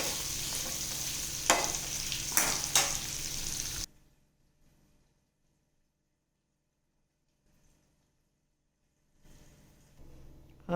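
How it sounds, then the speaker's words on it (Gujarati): Ivy gourd and potato pieces fry in oil in a pan, a steady close sizzle with a couple of stirring scrapes that cuts out abruptly, leaving near silence before faint frying returns. "આને આપણે એકલા તેલમાં ચડવા દેવાના છે."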